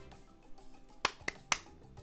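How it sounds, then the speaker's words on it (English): A few light, sharp claps from a player over voice chat during a Golf With Your Friends game, three distinct quiet smacks spaced unevenly across a murmuring background. "Golf clap."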